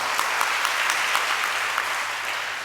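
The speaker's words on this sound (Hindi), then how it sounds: "ताली बजाओ तो सही ढंग से बजाओ, नहीं तो बिल्कुल मत बजाओ।" An audience at a religious discourse claps steadily, a dense close burst of many hands that stays loud throughout and eases slightly toward the end, with no talk over it.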